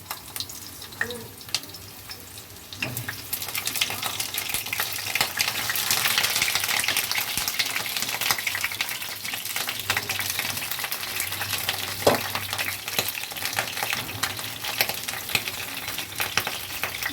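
Pointed gourd pieces fry in hot oil in a pan, giving a steady close sizzle and crackle with occasional stirring clinks throughout, and nobody speaks.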